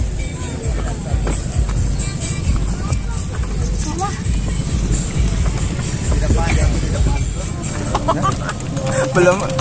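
A horse-drawn delman cart gives a ride at Kambang Iwak in Palembang. Hooves clip-clop steadily under wheel rumble and street noise, with people talking throughout.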